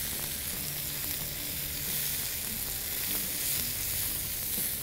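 Pieces of lightly pounded ivy gourd (kovakkai) roast in hot oil, giving a steady, loud, even sizzle that fills the whole stretch with no talking over it.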